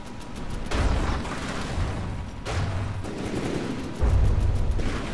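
Magnetic thumper bombs and torpedoes strike a target in the From The Depths game, giving a run of booming, crackling explosions in several loud bursts, one after another.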